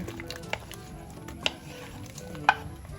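Sliced cucumbers for a cucumber salad are tipped into a mixing bowl and stirred, giving soft wet shuffling with a few sharp clinks against the bowl, close and quiet, with no talking.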